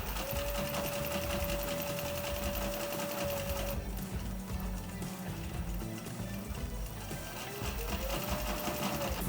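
A sewing machine stitching a leather wallet, a steady rapid mechanical whir and clatter with a brief pause midway before resuming, close and continuous with no voices.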